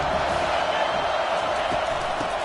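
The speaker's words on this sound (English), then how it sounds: "This crowd bringing an ear-splitting welcome to their visitors" A basketball crowd at a USC versus Notre Dame game roars steadily and loudly throughout, a dense wall of cheering with no break.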